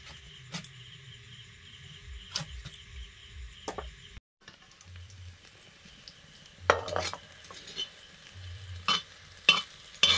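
Pan sizzling and frying under a steady crackle, with occasional clinks and scrapes of a utensil stirring, close by.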